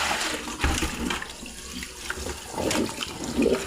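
Water running and splashing while rinsing a dirty kitchen towel, a steady close rush with sloshing bursts throughout.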